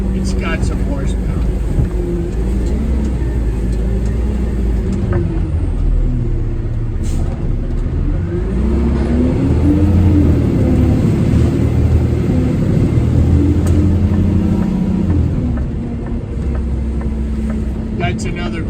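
A Peterbilt truck engine pulls a loaded trailer uphill with a heavy, steady low drone that swells slightly in the middle, while someone talks over it throughout.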